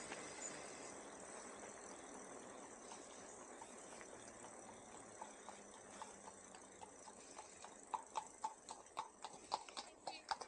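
A horse's hooves clip-clop on a UK road, faint at first and then sharper and louder toward the end as the horse draws near, over a steady background of wind and riding noise.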